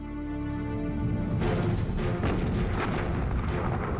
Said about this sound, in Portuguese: os poderosos canhões da superarma de Hitler destroem o orgulho da marinha inglesa